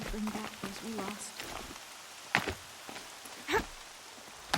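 Rain in the video game Horizon Zero Dawn: a faint, steady patter with a few sharper drops, heard under a person speaking at the start.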